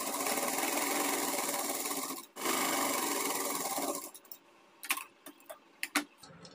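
A sewing machine runs in a fast, steady whirring stitch along a blouse back-neck seam with a half-inch margin, stops briefly, runs again, then gives way to scattered clicks and handling taps.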